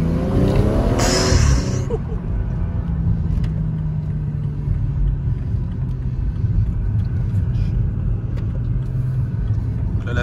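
A BMW M135i with all-wheel drive and a Stage 1 tune accelerating, a heavy steady engine rumble heard from inside the cabin, with a brief burst of higher noise early on and the drone holding throughout.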